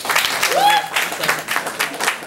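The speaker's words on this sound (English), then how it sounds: "round of applause if you guys watch politics on television." A comedy club audience applauds and cheers during a stand-up set, a short burst of clapping with whoops and a rising shout, fairly loud and close for about two seconds.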